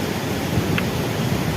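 Steady rushing water from a stream in the Valley of Flowers, a broad continuous wash that stays even and close throughout with no voices.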